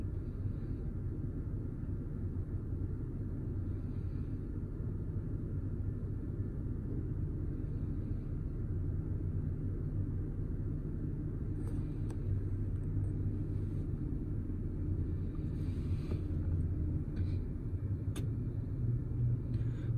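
A vehicle rumbles steadily nearby for the full stretch, a constant low engine drone with faint higher clatter toward the end, no voices over it.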